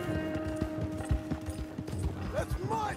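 In Red Dead Redemption 2, a horse's hooves clip-clop in a steady rhythm on a road, close and moderately loud, with creaking and rattling tack beside it and a voice talking over part of it.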